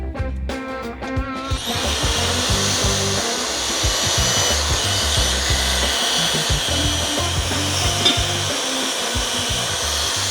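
Power tool cutting a metal part with a chip collector underneath, for a supercharged V8 mini box truck build; a loud steady whirring drone runs continuously for about ten seconds after a brief start.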